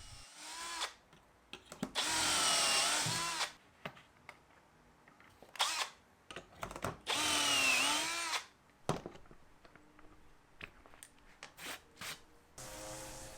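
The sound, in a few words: drilling dowel holes with a Dowel Max doweling jig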